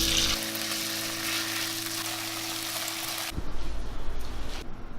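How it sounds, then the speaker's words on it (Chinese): Pork frying in a little hot oil in a flat pan, a steady close sizzle that shifts to a rougher, louder crackle near the end as the meat is stirred. "平底锅来加入少许油，油温热了，把猪肉放下来炒到变色"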